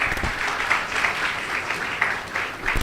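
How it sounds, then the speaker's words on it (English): An audience at a college convocation ceremony applauds steadily, a dense, even wash of many hands clapping throughout, fairly close and sustained with no voices standing out. "Can we hear a round of applause for this?"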